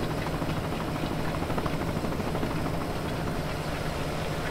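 A John Deere 4640 tractor engine in Farming Simulator 17 starts and settles into a steady, low, heavy rumble that holds at an even loudness throughout.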